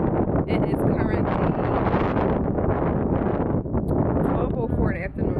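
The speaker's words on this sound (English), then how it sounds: "It's kind of windy, but it's sunny." Strong wind buffets the microphone outdoors on a sunny day, a loud continuous roar filling the whole stretch with only a brief dip near the end.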